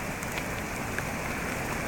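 Steady rain falls throughout, a dense even patter on surfaces close by with no other sounds standing out.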